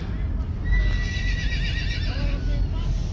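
A horse whinnies in a long, rising-and-falling neigh at middle distance, heard over steady outdoor rumble and the murmur of people talking nearby at a horse sale.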